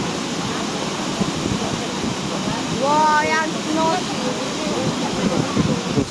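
Steady, loud rushing of a waterfall fills the scene from start to finish, a dense broadband roar with no breaks, while someone talks briefly over it near the middle.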